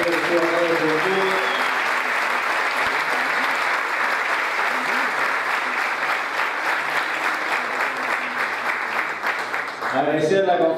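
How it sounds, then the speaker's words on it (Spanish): Applause at a youth congress: a large crowd claps steadily and loudly for several seconds, dense and close, before a voice begins to speak near the end. "Agradecerle a Mauricio de Alessandro, que pide un aplauso"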